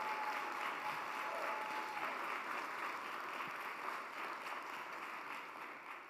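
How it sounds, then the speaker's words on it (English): Sustained audience applause fills a hall after a speaker named Taylor at a conference event, a dense steady wash of many hands, moderately distant and slowly fading toward the end, with no talking over it. "Can we give Taylor one more round of applause?"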